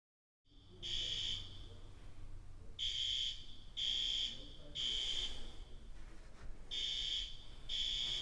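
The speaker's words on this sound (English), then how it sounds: "There's a fire alarm going off while I'm filming this video." A fire alarm goes off indoors during a phone unboxing, sounding as repeated loud electronic beeps in bursts of roughly half a second, with short gaps between them, over a low room hum.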